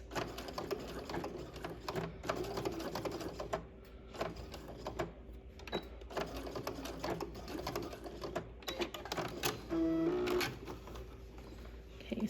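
A sewing machine stitches a welt pocket, running in short bursts with pauses between, close and fairly quiet, with a brief louder whir near the end.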